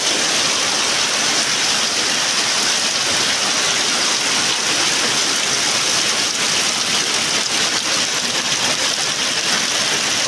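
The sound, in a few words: heavy monsoon rain in Konkan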